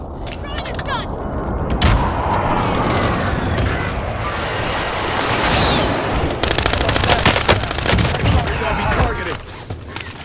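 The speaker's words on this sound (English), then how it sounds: "Enemy precision airstrike." Enemy precision airstrike in a multiplayer shooter video game: dense rolling explosions and rapid gunfire crackle continuously, loud and layered, while players talk over the chaos.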